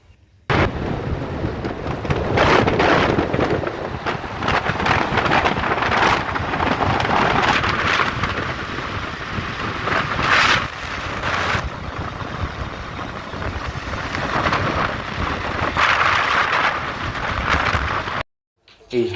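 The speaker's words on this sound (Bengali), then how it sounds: "হাওয়ার বেগ যখন মুখে এসে লাগে আর কানে এসে লাগে তার আওয়াজ" Steady, loud wind roar buffets the microphone while riding a motorbike, broad and rushing, briefly cutting out near the end.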